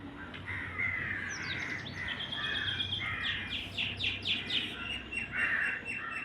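Crows caw repeatedly from nearby trees while other birds chirp and call around them, a busy outdoor chorus of overlapping cries at moderate distance with no voices.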